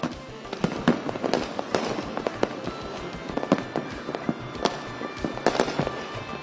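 Fireworks bursting repeatedly over Tiruchirappalli at night, a dense crackle of sharp pops and booms overlapping one another, some near and loud, others farther off.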